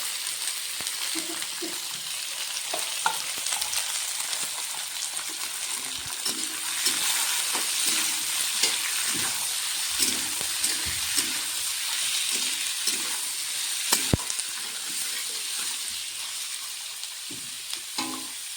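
Onion, beans, peas and carrots fry for vegetable chow mein in a pan, a steady close sizzle with occasional stirring scrapes and clicks throughout, no voices.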